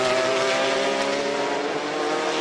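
Race car at the 2005 24 Hours of Le Mans driving past with a loud, steady high-revving engine drone, continuous and close with no talk over it.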